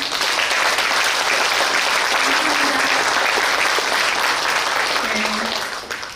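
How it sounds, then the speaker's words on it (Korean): Audience applause in a city hall conference room after a novelist's lecture, a loud, steady wall of clapping that holds for several seconds before easing slightly at the end. "박수 한번 쳐주세요"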